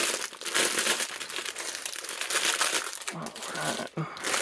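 Plastic bags of parts for a LEGO Star Wars Phantom Menace BrickHeadz set crinkle and crumple up close in continuous bursts as they are handled and torn open, with faint voices now and then.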